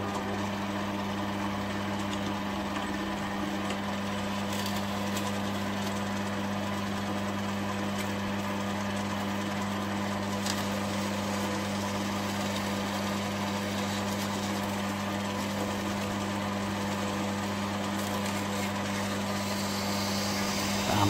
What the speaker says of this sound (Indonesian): Amplas pakai yang halus